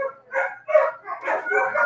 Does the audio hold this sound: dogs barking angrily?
yes